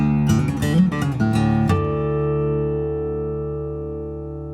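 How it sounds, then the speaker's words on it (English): A Taylor 611e Limited acoustic-electric guitar in Tobacco Sunburst is strummed in a few quick strokes, then a final chord rings out and decays slowly, close and clear with no voices. "they answer my prayers with the new 611e Limited in Tobacco Sunburst"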